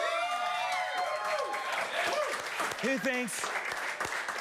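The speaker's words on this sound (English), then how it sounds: "Round of applause." Studio audience applauds a Donald Trump impersonator on a TV show set, with steady clapping under loud voices and cheering throughout.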